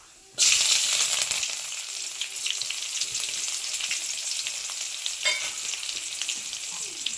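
Mustard seeds, onion and curry leaves hitting hot oil, a sudden loud sizzle that settles into steady frying with occasional pops and a stir, close, with no voices.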